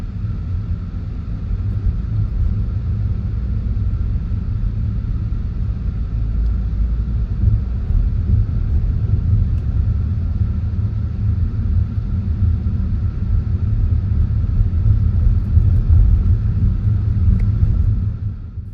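A car cruises along Front Street in Lahaina, Maui, near the Banyan tree and harbor, giving a steady low engine and road rumble that holds unbroken for the whole stretch.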